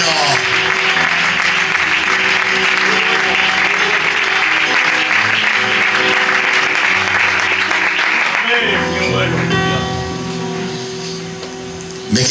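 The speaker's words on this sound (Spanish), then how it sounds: "Dale un aplauso a la sangre del Cordero." A church congregation applauds during a sermon, dense sustained clapping over music and voices that eases off near the end.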